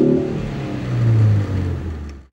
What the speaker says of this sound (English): I have to point out the car's exhaust note, which is pretty cool